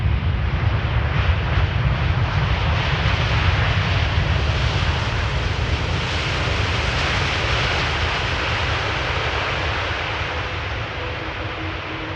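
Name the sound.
TUI Fly Boeing Dreamliner landing at Schiphol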